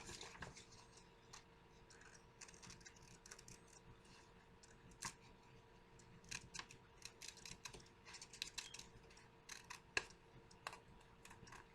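Scissors snip steadily around a paper pumpkin and its stem, a run of quiet, close, crisp cuts in irregular rhythm with no talking.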